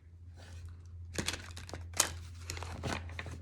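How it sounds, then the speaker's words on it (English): Tarot card deck being shuffled with difficulty, with soft crinkling and irregular papery snaps and riffles, close and fairly quiet over a low steady hum. "So hard to shuffle this deck."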